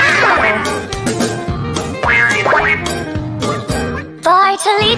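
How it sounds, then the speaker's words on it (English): Cartoon-style duck quacks pop out of a bouncy children's farm song, several short nasal calls sung over busy music and percussion. "Quack, quack, quack. No, Bartolito, that's a duck!"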